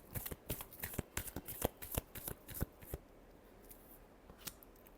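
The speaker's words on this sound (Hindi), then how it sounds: "Last shuffle." Tarot cards being shuffled by hand, a quick run of crisp riffling flicks that thins out into a few scattered snaps, soft and close.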